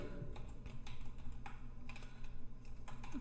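Typing on a computer keyboard, with rapid, uneven clicks and taps close to the microphone over a low hum, and no speech.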